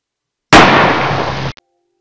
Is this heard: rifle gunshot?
yes